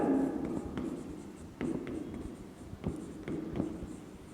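Chalk or marker writing on a classroom board at the start of a biology lecture, a series of scratchy strokes and light taps, close and clear, with a faint voice at the very start.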